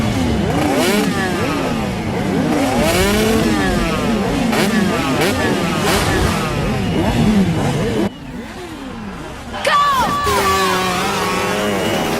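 Motorcycle engines rev repeatedly, loud and close, with rising and falling whines and a brief dip before another sharp rev.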